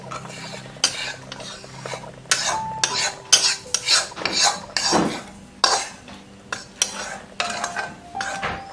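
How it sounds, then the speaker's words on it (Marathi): Roasted gram flour being scraped from a pan into a large bowl, close metallic clinks and scraping of a spoon against cookware in irregular strokes, with no talk. "आपण लगेचच हे या मोठ्या बाउलमध्ये काढून घेऊया"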